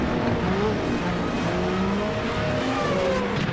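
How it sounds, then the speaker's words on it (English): Loud racing cars at Malaysia in a racing video game, a continuous dense engine roar with shifting revving tones and faint tire squeal, filling the whole stretch with no pauses. "the cars are so loud"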